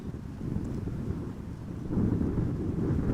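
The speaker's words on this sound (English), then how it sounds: "So we have wind more or less perpendicular to the direction of the runway heading" Strong crosswind blowing at Amsterdam Schiphol Airport, a steady low roar with buffeting gusts on the microphone that swell louder partway through, with no voices.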